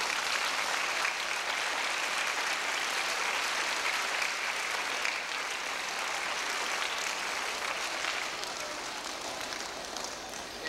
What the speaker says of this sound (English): So let's give those people a good round of applause.